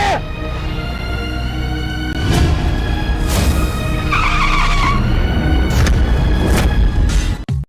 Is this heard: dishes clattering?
no